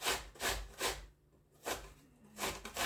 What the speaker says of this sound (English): we're just gonna grate our apple on a regular grater